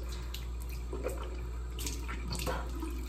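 Steady rushing of very hot water pouring from a tap, continuous and close, with a few faint clinks and splashes along the way.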